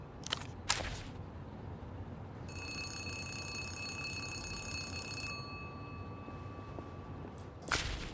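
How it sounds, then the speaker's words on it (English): Electronic telephone ringing in the video game Zero Parades: a steady multi-tone ring holds for several seconds, bracketed by sharp clicks and thumps at the start and end, with no voices. "a phone begins to ring"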